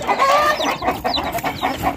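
A mother hen clucks near her six newborn chicks, four gold and two black, with a steady run of close, busy clucks and soft chirping calls filling the two seconds.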